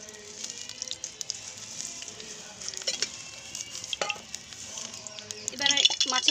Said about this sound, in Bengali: কড়াইটা গরম হয়ে গেছে, আমি সাদা তেল এর মধ্যে দিয়ে দিচ্ছি।